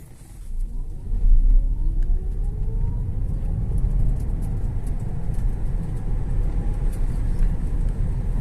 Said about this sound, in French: j'accélère à fond.